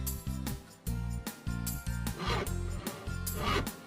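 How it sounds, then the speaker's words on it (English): A saw cutting at a construction site, heard as a loud, close run of rhythmic back-and-forth strokes that repeat about every half second, with no voices over it. "A saw."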